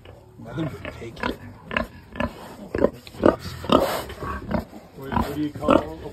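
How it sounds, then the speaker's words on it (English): Grunting from piglets and pigs in a farm pen, a series of short snorting bursts close by, mixed with people talking excitedly over them. "Jamie, there's another pig over here!"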